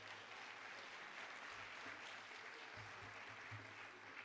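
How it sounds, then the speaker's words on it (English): Steady applause from a crowd at a high school sports awards event, a dense wash of clapping that holds evenly throughout without any talk. "Let's give a round of applause for track."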